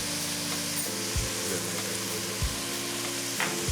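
Chicken pieces frying in a pot with minced garlic as the base for a Cajun blue crab gumbo, giving a loud, steady sizzle with occasional clunks of a utensil stirring against the pot, and no voices.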